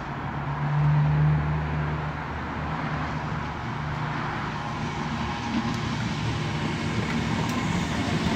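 ScotRail Class 320 electric unit on a Glasgow to Lanark service pulling into a station, a steady low rumble and rolling rail noise with a brief hum early on, close and continuous.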